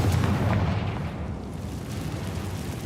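A Confringo spell explodes in Hogwarts Legacy with a heavy, rumbling blast that booms loud at first and then rolls into a sustained low roar that fades slowly.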